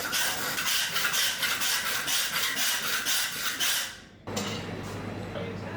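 A knife trims lamb offcuts on a butcher's block in steady, repeated rasping strokes that sound close and fairly loud, then a brief pause and a quieter steady scrape.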